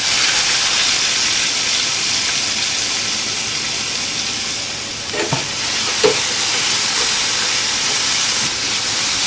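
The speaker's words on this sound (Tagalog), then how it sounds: "naglagay ulit tayo ng konting oil para igisa naman yung ating carrots" Carrots sautéing in oil give off a steady, loud hiss and sizzle, with a few faint clinks of stirring partway through.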